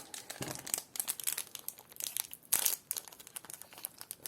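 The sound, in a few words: opening Pokémon booster pack wrapper, crinkling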